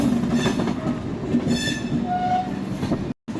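The Sealdah–Alipurduar Kanchankanya Express, an LHB rake, rolls past loud and close. Wheels rumble steadily on the rails, with faint high squeals and whining tones rising over the clatter, and there is no talk.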